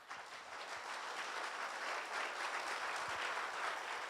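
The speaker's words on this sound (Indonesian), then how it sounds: "Tepuk tangan bagi Allah kita" A church congregation applauds for God in a steady, dense wash of clapping that fills the room evenly from start to finish, moderately distant with no voices standing out.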